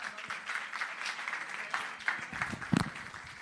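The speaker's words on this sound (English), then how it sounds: "one more round of applause one more time for all the panels" Audience applause at the Oslo Freedom Forum's Freedom Tech Track, honouring the panels: a steady, moderately faint wash of clapping from a crowd, with a few sharper claps near the end.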